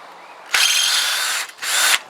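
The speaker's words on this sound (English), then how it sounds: "we'll drill the remainder of those rivets out" A power drill whines loudly in two bursts, a long one and then a shorter one after a brief pause, drilling out rivets on a Zontes Tiger 125 motorcycle frame close by.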